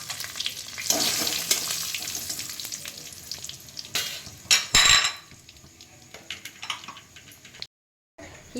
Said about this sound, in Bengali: এবার আমি ফোড়নটা দিয়ে দিচ্ছি জিরে, শুকনো লঙ্কা, তেজপাতা আর কটা গোটা গরম মশলা।